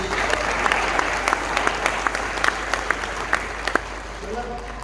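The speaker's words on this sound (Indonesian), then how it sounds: "Can I give a hand clap?" A church seminar congregation in Manokwari claps hands together in dense, steady applause for about five seconds, with sharper individual claps popping out of the wash and faint voices underneath.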